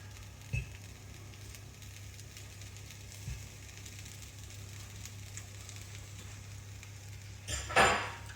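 Egg fried rice with peas sizzles steadily in a pan, with a few sharp utensil knocks and a louder burst of scraping and mixing near the end, no talking.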